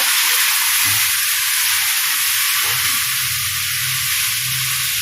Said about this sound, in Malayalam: നമ്മുടെ പയറും ഇട്ട് കൊടുക്കാം